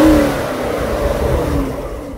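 Stingray car engine revving up close, a loud, steady mid-pitched roar with a rising whine that fades slightly toward the end, with no talking.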